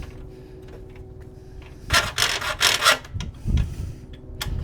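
Close rasping saw strokes from a blade cutting during a fridge repair, a burst of several quick, loud strokes in the middle followed by a lower thud-like stroke, over quiet background.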